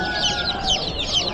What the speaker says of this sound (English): A lot of little chicks.